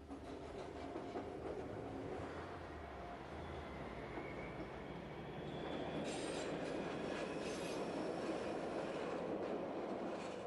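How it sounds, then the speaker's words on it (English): A BDe 4/4 rail car rolls along track toward Wasserrauen, a steady close rumble of wheels and running gear, with rising rail noise and faint squealing in the second half. "making our journey to Wasserrauen in one of the latest BDE 44 rail cars"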